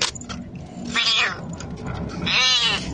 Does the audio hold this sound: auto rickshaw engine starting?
no